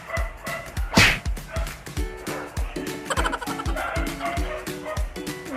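A dog barks repeatedly in a rapid, steady rhythm, loud and close, with yips mixed in and little else around it.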